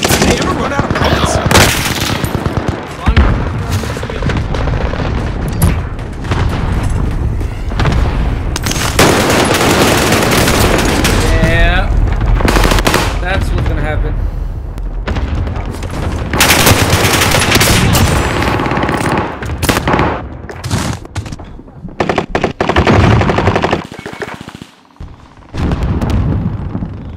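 A Whitley light machine gun fires in a first-person shooter game in loud, sustained bursts, joined by other gunfire, explosions and game announcements, with players talking over the action.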